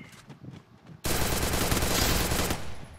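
Automatic gunfire in a Free Fire match during a qualifier: a quiet start gives way to a loud, sustained volley of rapid shots that runs nearly three seconds.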